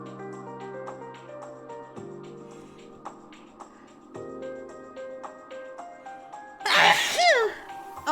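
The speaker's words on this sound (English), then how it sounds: "I was worried I wasn't gonna sneeze." One loud, sharp human sneeze bursts out near the end, close to the microphone, after a stretch of quiet background music.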